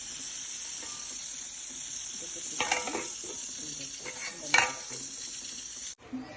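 Okra (bendakaya) frying in a pan, a steady close sizzle with a few stirring scrapes and clinks before it cuts off near the end.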